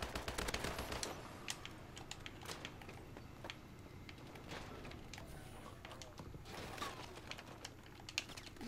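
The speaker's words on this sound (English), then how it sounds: "I'm getting shot from like so many angles." Rapid gunfire in the online free-for-all mode of the video game Call of Duty: Advanced Warfare, with dense bursts of shots and impacts at varying distances, heavier at the start and near the end, under faint talk.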